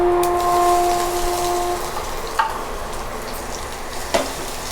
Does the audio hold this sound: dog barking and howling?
no